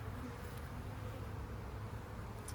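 Honeybees in a green hive's second deep box with an open frame of honey, comb and brood make a steady, dense buzzing drone, close and continuous, with no talk.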